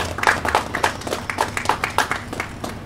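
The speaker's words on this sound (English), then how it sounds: "So please give him a round of applause." An audience gives a round of applause, a sparse, uneven patter of claps from a modest crowd, fairly near and fading slightly toward the end.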